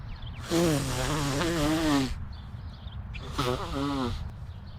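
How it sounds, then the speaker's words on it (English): Two honking nose blows, the first long and wavering, the second shorter, close by over a faint background hiss. "Let me blow my nose real quick."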